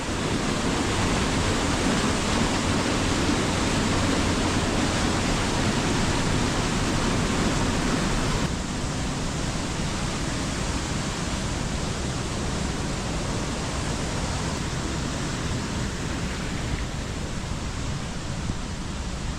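Chilanthiyar waterfall at Vattavada in the forested hills roars steadily and loudly nearby, a dense, unbroken rush of falling water with no voices.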